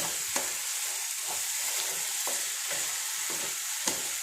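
Curry boiling in a pot over high heat, a steady bubbling hiss with soft scraping stirs and a couple of sharp spoon knocks against the pot, close and continuous, no voices.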